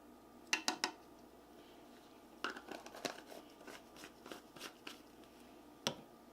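Gold mica is stirred into soap batter in a container, giving faint, intermittent scraping and light clinking strokes in short bursts, quiet and close.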